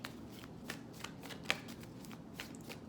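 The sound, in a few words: shuffling a deck of oracle cards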